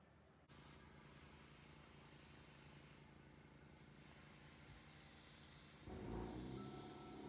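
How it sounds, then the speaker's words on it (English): Steady airbrush hiss spraying red, yellow and orange paint onto a cosplay cape laid over a snowboard, continuous and close with brief dips in pressure, no talking. "next upgrade is going to be all with an airbrush"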